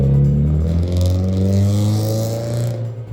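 A Scion FR-S engine revs and pulls away, a strong low exhaust drone rising and falling in pitch as the car moves off close by, loud throughout with no talk.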